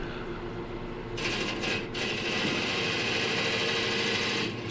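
A roughing gouge cuts the end grain of dry apple wood on a lathe. A steady motor hum runs underneath, and a continuous hissing cut begins about a second in and carries on to the end.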